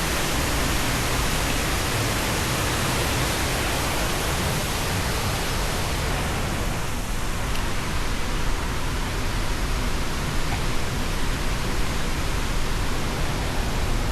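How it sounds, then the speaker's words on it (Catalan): A waterfall beside a mountain reservoir pours in a steady, dense broadband roar that holds constant and loud throughout, with no voices over it. "Escolta, perquè veieu el pantà aquest i aquí el salt d'aigua."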